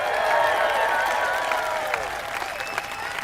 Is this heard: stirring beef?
no